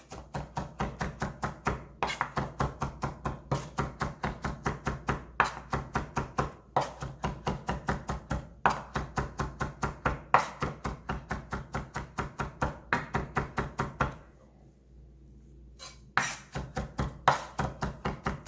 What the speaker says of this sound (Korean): 자, 이렇게 양파가 전체적으로 저는 잘게 다져진 것 같아요.